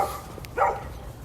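A single dog barks once, short and moderately close, with a soft whine-like tone before it, heard against a low background hum with no talking.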